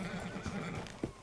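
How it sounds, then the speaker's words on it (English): A horse in a PS4 video game whinnies loudly and close, its neigh mixed with clip-clop hooves and dense ambient game sound. "Hitch your horse up here."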